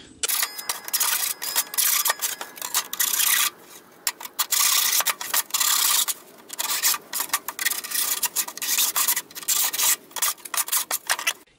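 A hand file rasps burrs from sawn steel car body sheet on a Citroën Traction 11B under restoration, close and loud, in rapid repeated strokes with brief pauses between bursts.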